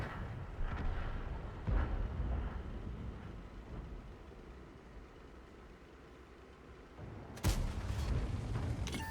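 A Leopard 1 tank cannon fires in a video game with a sharp boom over a low engine rumble, and a second heavy blast comes later.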